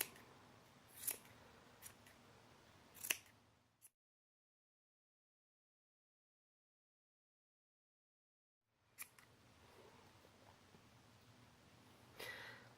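Scissors snip through yarn while making a pom pom, a few sharp, close cuts at the start, then a long stretch of silence before quiet handling noise and one more faint snip.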